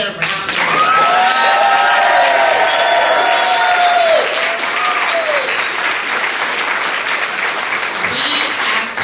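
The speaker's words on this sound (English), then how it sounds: "Let's give her another round of applause." A crowd at a women's summit in Northern Virginia claps loudly and cheers, with several high whoops and shouts rising over the dense applause before it settles into steady clapping and a voice comes in near the end.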